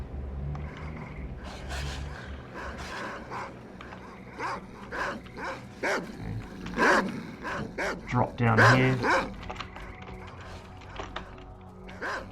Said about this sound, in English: Those dogs are going to be a problem.